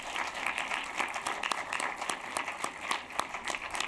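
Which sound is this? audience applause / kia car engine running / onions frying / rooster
audience applause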